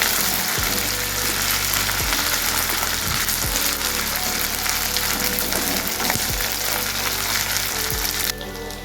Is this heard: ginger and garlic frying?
yes